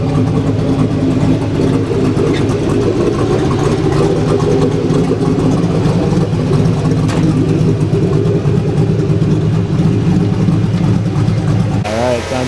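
A car engine idles and rumbles steadily at close range at a Hot Rod Power Tour stop, with voices talking over the running motor throughout.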